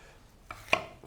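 A few knife strikes knock against a cutting board, two or three sharp chops spaced irregularly in a quiet kitchen.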